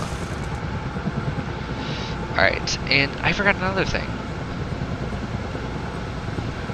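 A helicopter from the Minecraft heli mod thrums steadily and loudly throughout, its continuous rotor and engine noise running under someone talking in the middle of the stretch.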